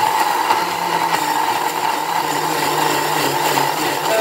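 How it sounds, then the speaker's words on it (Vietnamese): A kitchen blender whirs steadily, grinding pandan leaves with water into a smooth purée, a loud constant motor drone with no pauses and no voices. "Mình sẽ xay hỗn hợp cái lá dứa này"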